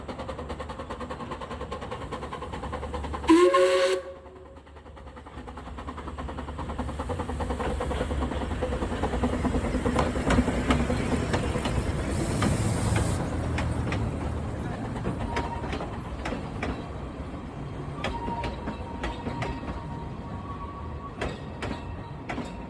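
Two Talyllyn Railway steam locomotives, No. 7 Tom Rolt and No. 11, double-heading at the 75th Anniversary Gala: a sharp whistle blast early on, then a long steady rumble of the train passing close and fading into ticking rail noise.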